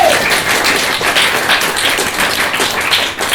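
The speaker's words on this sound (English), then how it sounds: "Give them a round of applause." A theatre audience at an improv show in Glasgow claps loudly and steadily for the improvisers, with dense, sustained applause from start to finish.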